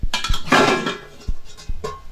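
A lid comes off a pot of boiled soybeans with a few close metallic clanks and knocks, a brief rattling scrape, then scattered lighter taps in a quiet kitchen.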